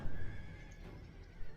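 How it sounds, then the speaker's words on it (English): Horses neigh in a video game campaign playing as the Massagetae on Legendary difficulty: a faint, brief whinny with a rising, quavering cry over a quiet background. "Maybe those are just regular horse noises."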